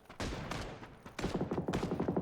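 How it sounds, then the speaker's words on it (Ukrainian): Rapid bursts of automatic gunfire crackle in the video game PUBG, in two dense volleys separated by a short gap, loud and close with no talk over them. "По мені вже стріляють."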